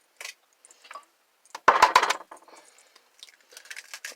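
An egg cracked by hand into a well of flour for homemade chicken noodle soup noodles: a cluster of three or four sharp, close shell taps mid-clip, with soft handling clicks and rustles before and after, no talking.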